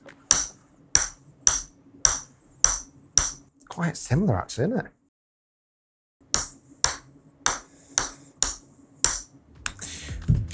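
Crisp, sharp club-on-ball strikes from a Taylormade P770 golf iron, a steady run of evenly spaced impacts before and after a short spoken comment, close and loud.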